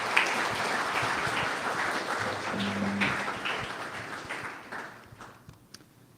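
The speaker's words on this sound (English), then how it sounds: "Let's give Ulric a round of applause." A round of audience applause at a developer meetup, sustained even clapping that tapers off toward the end.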